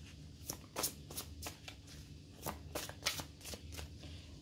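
A deck of tarot cards being cut and handled by hand, giving a series of crisp, close card riffles and snaps at irregular intervals over a low background hum.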